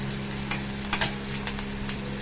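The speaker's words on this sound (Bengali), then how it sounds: "পেঁয়াজ কুচি, আমি হালকা একটু ভেজে নিচ্ছি, গোল্ডেন ব্রাউন করবো না।" Chopped onion frying lightly in a pan, a soft steady sizzle with a few brief clinks and stirring scrapes, close and alone.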